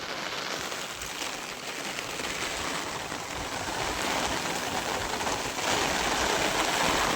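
Heavy rain falling with wind on a farm, a steady dense hiss of rainfall that swells slightly louder toward the end, with no voices.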